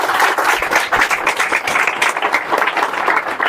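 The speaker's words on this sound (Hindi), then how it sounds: "तालियां" Audience applause for a national achiever at a motivational talk, steady dense clapping from a crowd filling the whole moment, close and loud with no voices over it.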